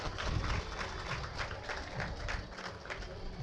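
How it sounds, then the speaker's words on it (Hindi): An audience claps in a steady, rhythmic beat at a Krishna and Mahabharat religious discourse, moderately loud and unbroken for the whole stretch. "जरा आप लोग भी एक बार ताली बजा दो।"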